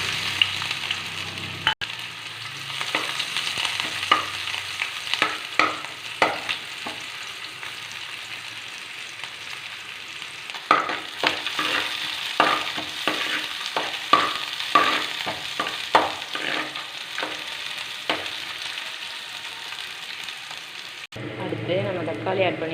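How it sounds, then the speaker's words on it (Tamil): Chopped onions hiss and crackle as they fry in hot oil for a vegetarian mutton-style curry with meal maker, a steady close sizzle broken by scattered pops and stirring clatter, with a person talking at times. "இப்போ நம்ம கட் பண்ணி வச்சுருக்க வெங்காயத்தை இதில் சேர்த்துக்கலாம்."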